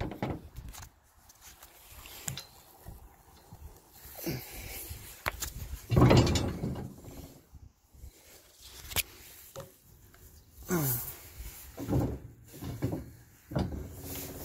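Metal trailer hitch clunking and scraping as it slides back into a pickup truck's receiver, a few sharp knocks and rattles spread over the span with quiet gaps between.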